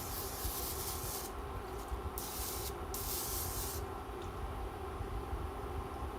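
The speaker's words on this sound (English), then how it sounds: "just a little cooking spray" Short hissing bursts of cooking spray coat bread pans in a home kitchen, two quick sprays close by, faint against a steady low background hum.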